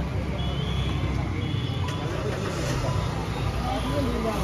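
A used top-model car with a push-start button idles after starting at a Kolkata used-car dealership, a quiet, smooth, steady hum faintly under the background for several seconds.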